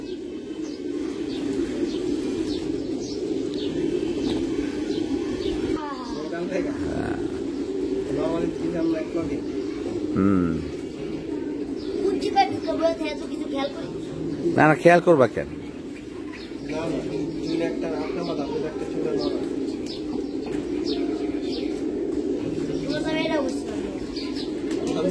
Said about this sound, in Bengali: কবুতরগুলো গোসল করুক